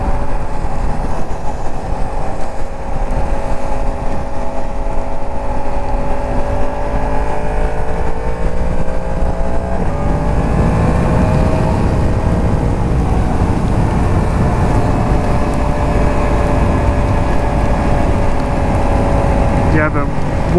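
2022 Yamaha MT-10 SP motorcycle riding in a rainstorm, a loud continuous drone of engine, wind and spray with shifting engine tones as speed changes, sustained and close.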